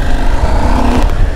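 Husqvarna Norden 901 motorcycle pulling away on the road, a steady loud engine drone with a brief rise in revs near the end, heard close and alone.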